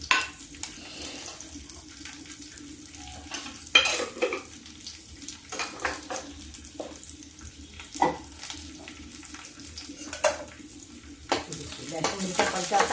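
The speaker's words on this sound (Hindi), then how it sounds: "जीरा, डालेंगे इसी में, देखिए लहसुन," Cumin, garlic and chili fry in a pan, a soft steady sizzle broken by repeated scraping and clinking of a spoon stirring against the metal, fairly quiet and close.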